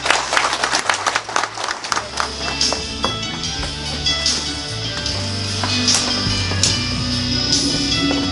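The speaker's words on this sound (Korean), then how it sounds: "큰 박수 부탁드립니다." Applause at the 61st Gyeongsangbuk-do Culture Award ceremony as winners and the governor are called to the stage, a dense, steady crowd clapping with some louder nearby claps, mixed with background music and hall noise.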